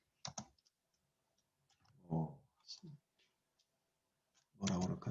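Code is typed on a computer keyboard in scattered bursts of quiet key clicks, faint and close, with soft speech in between.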